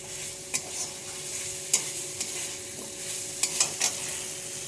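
Whole garlic bulbs, garlic cloves and soybean chunks fry in hot oil in a pan for a mutton curry, giving a steady sizzle with a few sharp stirring clicks. No one speaks.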